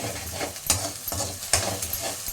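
Salted chicken frying in a pan, stirred with a utensil: a steady close sizzle broken by a few sharp scraping strokes against the pan, with no talking.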